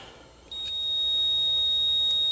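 A multimeter beeps while testing a Grizzly ATV stator that is not charging. The tone is a steady, high continuous beep that starts abruptly after a moment of low noise and holds to the end, with faint clicks.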